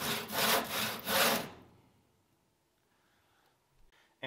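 A hand saw cuts wood along a clamped guide with about four quick, rasping back-and-forth strokes, then stops. Near silence follows, with a faint knock at the end.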